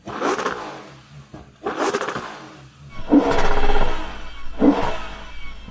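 Kia car revving repeatedly up to its soft limiter at 6500 rpm, four sharp rising engine bursts with pauses between, loud and close, no talk.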